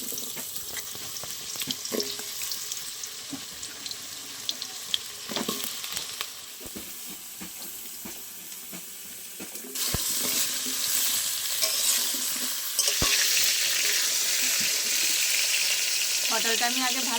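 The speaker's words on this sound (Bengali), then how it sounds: "পটলটা একটু আমি আগে লাল লাল করে ভেজে নেব।" Pointed gourd (potol) frying in hot mustard oil in a wok, a constant sizzling hiss with scattered stirring scrapes and clacks that swells louder midway and again near the end.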